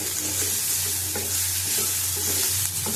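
Bottle gourd peel fries in a pan with turmeric and salt, a constant close sizzle with light stirring scrapes over a steady low hum.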